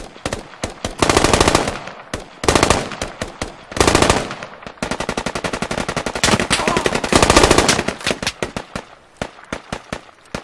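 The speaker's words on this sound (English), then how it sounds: "Someone's shooting us from the field." Machine gun fire in the military shooter Squad on the Kohat Toi River Valley map: loud, close bursts of rapid automatic shots with short pauses between them, followed by a longer sustained string of fire and scattered single shots.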